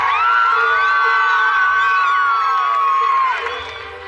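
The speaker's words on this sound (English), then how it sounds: "the crowd burst into joyous applause" A large crowd cheers and whoops loudly, shouts sustained for several seconds before easing off slightly at the end.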